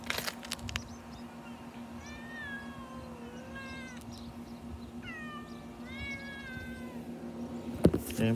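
A cat meows in a few drawn-out, wavering calls in two clusters, fairly faint and indoors over a steady low hum, with a couple of sharp knocks at the start and end.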